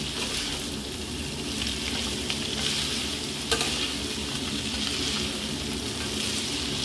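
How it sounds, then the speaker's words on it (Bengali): Boiled chowmein noodles tossed and stirred in a hot frying pan, giving a continuous close sizzle with occasional clicks of the utensil against the pan. "চাউলটাকে ভালো করে মিশিয়ে দেব।"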